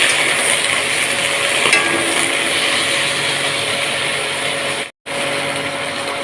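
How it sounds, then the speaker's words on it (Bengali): Fried potatoes and beans sizzle steadily in a pan while being stirred, a loud continuous hiss that cuts out briefly near the end before resuming. "এবার ভালো মতো নেড়ে চেড়ে নিয়ে"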